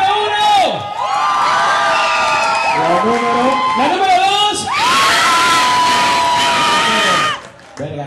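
A crowd at a dance contest shouts and cheers loudly for the winners, with shrill whoops and yells rising and falling over several seconds while an announcer speaks over the noise.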